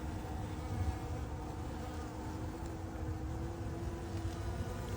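Honeybees from a newly installed package swarm over a frame feeder inside the hive, making a dense, continuous buzz that stays close and steady throughout.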